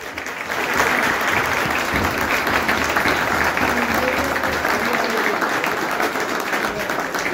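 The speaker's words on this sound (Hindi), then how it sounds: "आप सबकी भरपूर तालियों में चौधरी रजा गुज्जर साहब" Sustained, full applause from a crowd at a pigeon-flying club prize ceremony, greeting the baby pigeon tournament champion; thick clapping holds steady and loud for several seconds with faint voices beneath.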